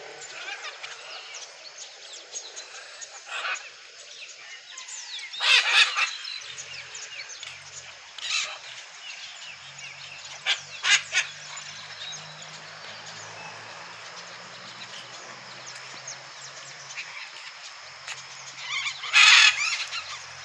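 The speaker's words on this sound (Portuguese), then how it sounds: "Mostrando aqui um pouco das araras." Harsh, raspy squawks from macaws ring out at scattered intervals, some loud and close, others fainter, over a quiet hiss of background noise.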